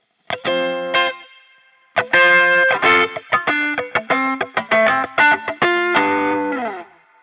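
Distorted electric guitar through an amp simulator app in Loopy Pro with heavy effects plays a short riff of choppy, stabbing chords, a brief pause, then a faster run of punchy strummed hits, loud and close.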